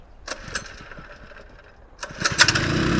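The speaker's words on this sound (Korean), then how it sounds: "자, 시동을 겁니다." A flexible water pump's small engine is cranked with a few faint clicks and tugs, then catches about two seconds in and settles into a loud, steady mechanical drone close by.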